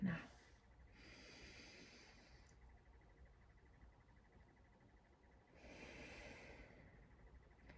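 A slow, deep breath: a soft airy inhale around the first second, a long quiet pause, then a second breathy rush near the end, faint and close, with no talking.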